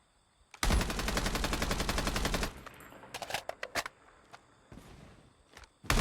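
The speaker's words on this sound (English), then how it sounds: "So now you can actually aim and shoot." Rapid automatic gunfire from a mobile shooter game played through an emulator on PC, a dense sustained burst of about two seconds followed by several shorter sharp shots and brief bursts, loud and close with no talking.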